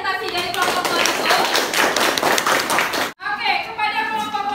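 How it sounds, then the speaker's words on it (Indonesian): Classroom of children clapping for a group presentation, a dense, close patter of hands that breaks off briefly and resumes, with young voices mixed in. "Tepuk tangan untuk presentasi dari kelompok Maluku."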